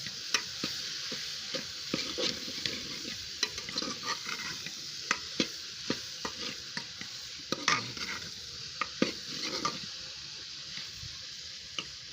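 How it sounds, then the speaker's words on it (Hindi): Okra (bhindi) being stir-fried in a pan, with a steady sizzle and repeated sharp scraping and clicking strokes of a spatula against the pan, close and alone without talk. "इसकी अब शुरू होगी भुनाई का टाइम भिंडी का। इसको खूब भुनेंगे"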